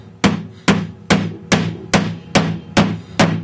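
A chisel is struck with a mallet while cutting a sash window pocket in wood, eight sharp, evenly spaced blows ringing close and loud.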